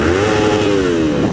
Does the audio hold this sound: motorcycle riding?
yes